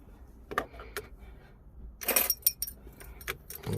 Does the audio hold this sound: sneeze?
no